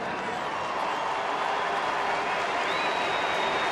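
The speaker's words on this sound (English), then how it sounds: "Always gets a nice applause," Steady crowd applause fills a baseball stadium as fans greet Torii Hunter after his single to right, a continuous wash of clapping and cheering that holds at even loudness throughout.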